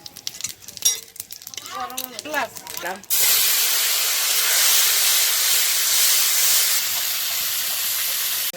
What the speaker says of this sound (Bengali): আমি পাতাটা দিলাম দুটো জিরে দিলাম